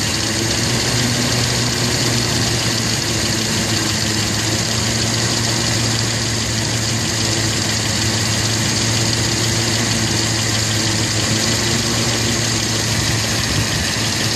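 A rebuilt Nissan Z24 engine idles at around 750 RPM, a close, steady mechanical hum with a constant throb and rattle, running on alone without pause.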